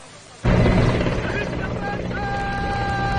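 An Indian Air Force army helicopter flying over a police memorial during a flower-petal salute: after a quiet start, a loud, sudden, continuous rotor and engine roar takes over and holds steady, with faint tonal whines on top.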